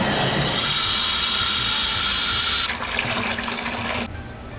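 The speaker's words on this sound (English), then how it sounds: "I'm gonna be filling it with vinegar" Water from a tap gushes loudly into a bucket being filled with vinegar and water, a close, strong rush that shifts in tone partway through and then drops lower as the flow eases.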